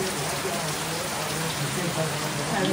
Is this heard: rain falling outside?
yes